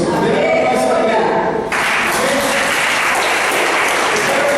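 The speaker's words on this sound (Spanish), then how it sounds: "Denle un aplauso a Él." Congregation applauding during a church service, broad steady clapping that fills the room for the whole stretch, with a voice briefly audible under it.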